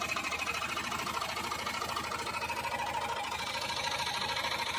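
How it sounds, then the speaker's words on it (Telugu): Tata Ace 1200cc engine idling after a carbon-cleaning treatment: a steady, fast mechanical chatter with an even ticking rhythm, close and constant throughout with no voices. "ఇంజెక్షన్ కంప్లీట్ చేసుకున్న తర్వాత ఇంజన్ నాయిస్ అనేది రెడ్యూస్ అవ్వడం అనేది ఇక్కడ క్లియర్గా మనం ఐడెంటిఫై చేసాం"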